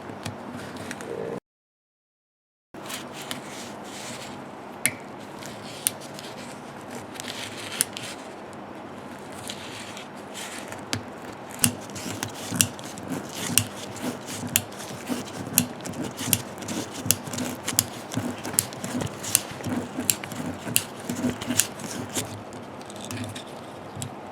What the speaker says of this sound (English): I'm going to put it in this ratcheting wrench, 1/4 inch ratcheting wrench, and put it from underneath and unscrew the TPMS.